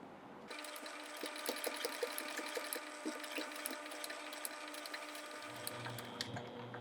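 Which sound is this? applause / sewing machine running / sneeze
sewing machine running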